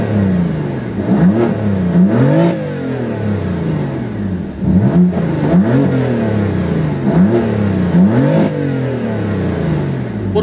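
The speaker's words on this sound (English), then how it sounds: "Now with the exhaust fully open," A 2015 BMW M3/M4 engine revving repeatedly with the exhaust fully open, several loud rising-and-falling revs close by in a rhythmic series, with no talking.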